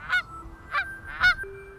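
Migrating geese give three or four sharp, nasal honks in quick succession, close by and clear against a quiet outdoor background.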